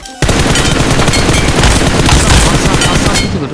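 Dense, continuous automatic gunfire in the PUBG Mobile shooter, loud and close, kicking in abruptly after a brief pause and running without a break for several seconds.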